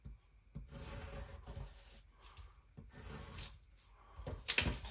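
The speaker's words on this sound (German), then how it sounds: "Ich schneide mal hier nochmal." A thick, sharp knife blade slices through material during a knife test, giving soft scraping, rasping strokes in a few passes, close and quiet.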